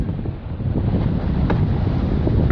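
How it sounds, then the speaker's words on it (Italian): A gust of wind sweeps over a Django 9.80 sailboat sailing upwind, a steady broadband rush of wind across the microphone with water noise beneath, building slightly and holding loud to the end, with no talking. "Eccola lì, sta arrivando la raffica."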